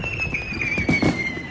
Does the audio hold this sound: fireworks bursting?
yes